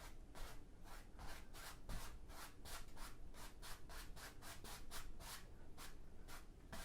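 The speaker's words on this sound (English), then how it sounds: "my 2-inch natural bristle brush, and I'm just going to start blending some of this" A 2-inch natural bristle brush blends oil paint on canvas in soft, rhythmic back-and-forth swishes, about three strokes a second, faint and close with no talking.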